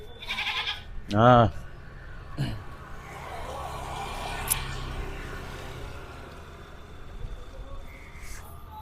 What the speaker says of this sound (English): The goat is crying out